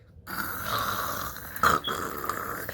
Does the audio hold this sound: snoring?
yes